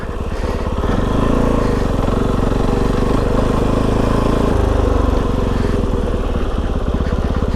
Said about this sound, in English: As soon as you rev the bike a little bit, it comes alive.